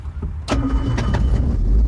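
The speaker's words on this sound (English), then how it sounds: "start the engine, same as anything else" The internal combustion engine of a hybrid car cranks and fires up, a sudden close starter burst followed by a rising engine rumble, fairly loud and with no voices.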